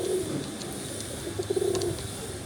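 Nila Kamagar pigeons coo softly in a steady, low, repeated rhythm, with a few brighter calls in the middle over a quiet room hum.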